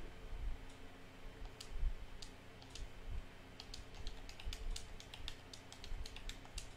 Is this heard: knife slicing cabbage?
no